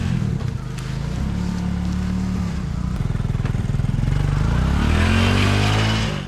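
Motorcycle engine labouring up a rocky, wet, slippery village road, close and loud with a low chugging idle that rises into strained revving and a pulsing rattle toward the end.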